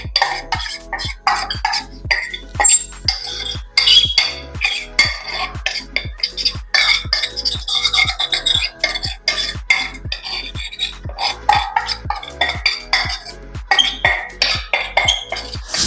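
A metal spoon scrapes and gathers lamp soot from burned almond and walnut oil for homemade kajal, making quick, steady clinking strokes, roughly two per second, close and clear with no voices.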